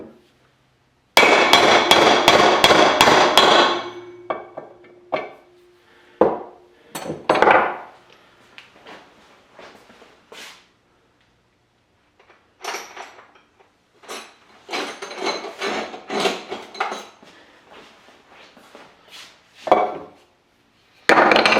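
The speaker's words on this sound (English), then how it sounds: "Bigger hammer." Repeated metal hammer blows knocking rusty crankcase parts apart, a dense burst of rapid strikes followed by scattered louder clangs and bursts of blows, close and loud with no talking.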